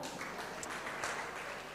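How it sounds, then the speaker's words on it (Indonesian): A church congregation at a sermon breaks into brief applause, a soft, even patter of many hands heard from a distance. "Luar biasa ya Ibu, tepuk tangan."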